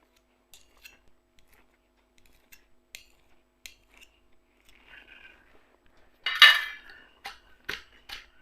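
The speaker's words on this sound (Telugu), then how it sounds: "కొత్తిమీరని సన్నగా తరుక్కొని వేసుకోవాలండి" Sharp knife chopping fresh coriander leaves on a board: scattered light taps, then a loud clattering burst of metal utensils against a dish, followed by a few more clinks, all close and without talk.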